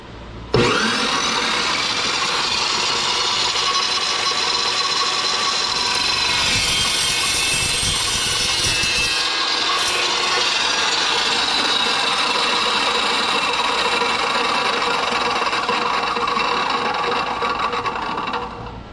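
An Evolution Power Tools EvoSaw 380 cutting through material, a loud, continuous harsh whine and grinding roar. It starts abruptly, holds steady for about eighteen seconds, then stops near the end, with no voices over it.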